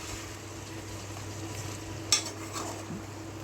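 Broad bean curry with green chillies sizzles in a pan as it is stirred. A soft, steady frying hiss and low stirring sounds continue throughout, with a single sharp utensil clink near the middle.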